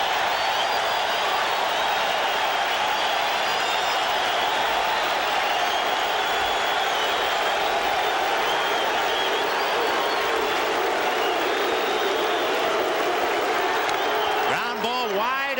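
Large stadium crowd at a 1986 World Series baseball game swells into a sustained roar of cheering and applause, steady and dense throughout, with a brief clatter near the end.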